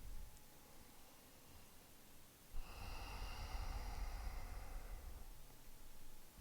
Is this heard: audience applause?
no